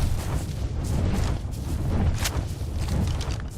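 Gunshots from a firearm in Ark Survival Evolved on Xbox One, with several booming reports fired in fairly quick succession against a dense, rumbling game background, loud and close.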